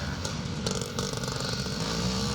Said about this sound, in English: he's riding that big 540 Husqvarna TC, the big 4-stroke thumper machine